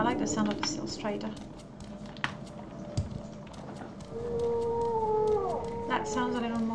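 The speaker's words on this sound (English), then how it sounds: "I like the sound of the Silstrader." A Silt Strider creature in the video game Morrowind gives a long, mournful, whale-like moan with gliding, wavering tones. It rises over a busy game soundscape of clicks and other creature noises.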